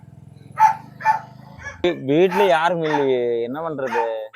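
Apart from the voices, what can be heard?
dog barking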